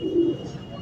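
A single soft, short coo from a high-flying pigeon at a pigeon shop, faint and close against a quiet background.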